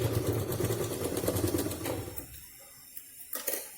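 A sewing machine stitches a cloth purse at home, a close, steady run of rapid needle strokes for about two seconds before it stops, leaving a few faint clicks.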